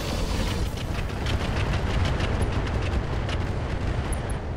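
Mech weapons fire incendiaries in the Roguetech video game, a dense, continuous roar of rumbling blasts and crackling impacts layered together for several seconds, with no speech over it.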